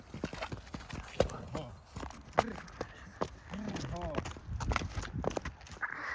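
A stallion's hooves clop along at a walking pace, a steady series of close knocks, while people talk nearby.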